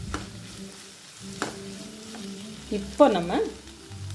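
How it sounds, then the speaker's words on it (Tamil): Ground masala being stirred into brinjal curry frying in a pan, a steady close sizzle with a few scraping stirs and a brief louder clatter near the end, with a voice speaking briefly. "அரைச்சி வச்சுருக்கிற மசாலா லேசாக கிளறி விட்டுடுங்க"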